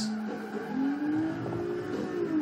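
Engine of a Ferrari race car in a racing video game, a steady rising and falling rev held up close and loud throughout, with no talk over it.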